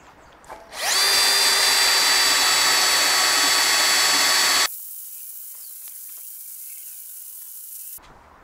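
A steady, loud blowtorch roar heats an MG TF subframe part in a workshop, running unbroken for several seconds before cutting off to a faint hiss.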